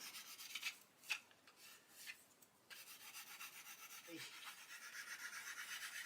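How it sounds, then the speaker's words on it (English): Steady rasping rub of sandpaper on the clear-coated edges of a 1/35 Ju 87G Stuka plastic model, close and fairly quiet, in repeated short strokes with a brief pause midway. "all I'm doing is just sanding the edges, just to take off the carrier film"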